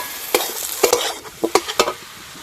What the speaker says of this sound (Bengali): এবার দিয়ে দেবো ভেজে রাখা আলু। আলুগুলো মশলার সঙ্গে ভালো করে কষে নেব।